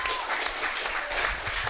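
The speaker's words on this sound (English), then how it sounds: "I called for that applause" Studio audience applause on a talk show, a short burst of dense clapping with speech running underneath.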